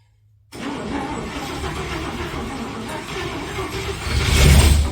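An International C100 truck engine cranks over as it tries to start, a steady churning rumble that begins abruptly after a short silence and swells louder near the end, close by, with no talk.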